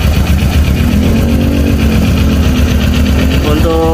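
A Kawasaki Ninja 250 with keyless ignition idles up close, its engine holding a loud, steady hum before the pitch shifts near the end.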